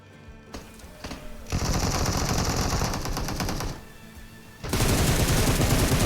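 Gunfire in PUBG Mobile, bursts of rapid automatic fire, a long sustained burst, a pause, then another loud burst, with no talking.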